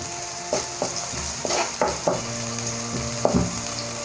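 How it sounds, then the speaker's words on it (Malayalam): Chopped onion sautéing in hot oil in a pan, a continuous close sizzle broken by several sharp spatula clacks and scrapes against the pan, no voices. "അരിഞ്ഞു വെച്ചിരിക്കുന്ന സവാള ഇട്ട് കൊടുക്കാം. ഇതൊന്ന് നന്നായിട്ട് വഴറ്റിയെടുക്കാം."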